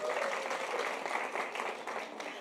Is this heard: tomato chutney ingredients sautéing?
no